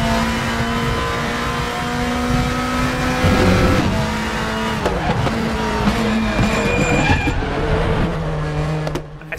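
A Volvo race car's engine drones loud and close around Laguna Seca in the RaceRoom racing game, its pitch rising and falling with shifts and revs, with brief tire squeals and no talking.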